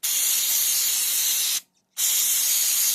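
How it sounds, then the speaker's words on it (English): Carburetor cleaner sprays in a loud, steady aerosol hiss onto a small engine carburetor, with a brief pause in the middle before the spraying resumes for another long burst. "you take that carburetor cleaner and you start cleaning it off"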